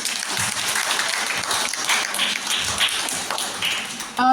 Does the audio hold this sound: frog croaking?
no